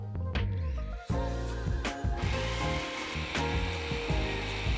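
A food processor minces cooked beets, a loud, whirring motor grind with rattling, choppy bursts as the pieces tumble against the cup, briefly stopping and restarting.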